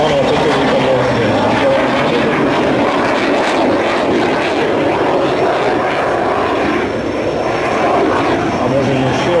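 A military aircraft, a Czech-built Aero Vodochody jet, flies at the SIAF 2012 air show, a steady loud engine roar filling the whole stretch while a voice talks faintly underneath.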